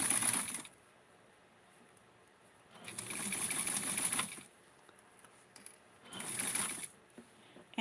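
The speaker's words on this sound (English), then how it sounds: "I'm going to use the serger right now." A serger stitches metallic brocade fabric for a doll dress in three short bursts of fast, buzzing mechanical chatter, each lasting about one to two seconds and separated by quiet pauses, heard close up.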